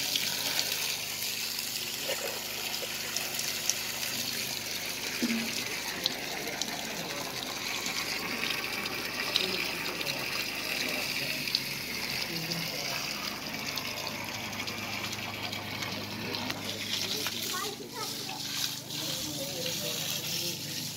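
Water runs steadily from the taps of a charity drinking-water well fountain in South Turkestan, a continuous broadband gush that lasts throughout, with voices talking faintly over it.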